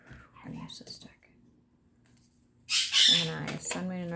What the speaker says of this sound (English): Okay, birds, settle down.